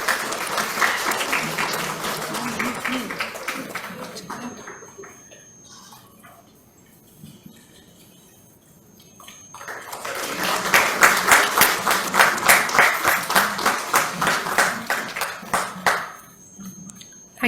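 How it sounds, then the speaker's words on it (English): Loud conference audience applause, a dense wash of clapping that fades to near silence midway, then swells again into another strong burst. "Welcome ma'am with a thundering applause"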